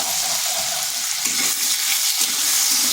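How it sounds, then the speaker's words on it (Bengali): Small potato pieces stirred and fried in a pan over medium heat, a close, loud sizzle overlaid with a few soft scraping movements of a spatula. "এরপর আলুটাকে এইভাবে নেড়ে চেড়ে হালকা লাল লাল করে ভেজে নেব"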